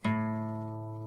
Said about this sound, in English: String 5,